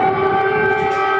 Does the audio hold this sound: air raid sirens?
yes